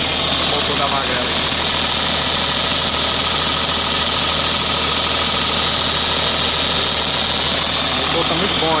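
A steady, loud diesel engine of a motor grader idles with a constant low rumble and mechanical knocking throughout, no breaks in the sound.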